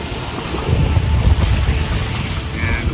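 Steady rushing wind and water noise as a sailboat cuts through waves, with a broadband roar and gusty buffeting throughout.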